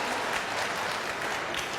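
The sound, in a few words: debate audience applause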